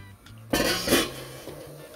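A spoon scrapes and clinks briefly against a pot while stirring a cornmeal and water mixture for Jamaican porridge. The sound is a short burst over quiet background music.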